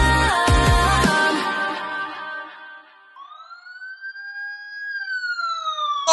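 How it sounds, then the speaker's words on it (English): After a burst of music fades, a police siren wails with slow rising and falling sweeps, clear and fairly close, continuing to the end. "You hear them sirens."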